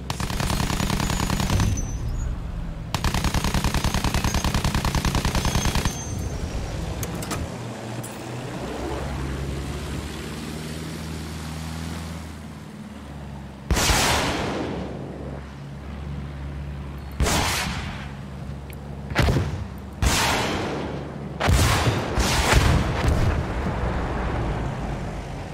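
Rockets and gunfire striking ground targets in the video game Battlefield 1: dense, loud battle noise with repeated heavy bursts and impact blasts, clustering more rapidly toward the end, with no talking.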